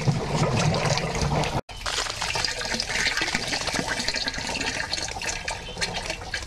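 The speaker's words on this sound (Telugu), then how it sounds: "జీవామృతంలోకి నీటిని కలిపిన తర్వాత వాల్వ్ను ఆఫ్ చేసినట్లయితే తిరిగి ఈ జీవామృతం నీరు చెట్లకు వెళ్తుంది" Water pours steadily from a valve into a drum of jeevamrutham, a natural-farming liquid fertilizer for guava trees, a continuous close rushing splash with a brief break near the start.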